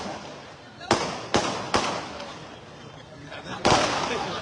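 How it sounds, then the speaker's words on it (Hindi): Firecrackers burst at a political gathering of party workers in Solapur, four sharp loud bangs spaced unevenly over a few seconds against a busy crowd background. "मैं पटाखे के बारे में बोल रहा हूं।"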